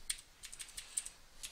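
A computer keyboard is typed on briefly to enter a ping command in a Linux terminal: a quick, faint run of light key clicks in an uneven rhythm.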